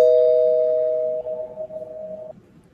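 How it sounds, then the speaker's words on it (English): A spoiler bell effect rings once, a clear sustained bell tone that holds steady and then stops abruptly, heard alone with no talk. "you can ring the spoiler bell"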